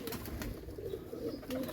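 Cheena pigeons land and coo nearby, with soft rhythmic low coos and a few faint wing or rustle sounds over a steady outdoor background.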